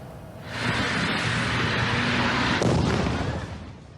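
A burning, overturned vacuum tanker truck explodes: a deep, sustained roaring blast that swells and rumbles for several seconds, with a sharper crack partway through, heard from a distance.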